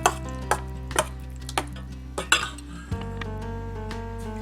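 Soaked beans are mixed with palm sugar in a bowl for a Vietnamese three-color dessert, giving sharp clinks of a utensil against the bowl at an irregular pace, close and clear over a low steady hum.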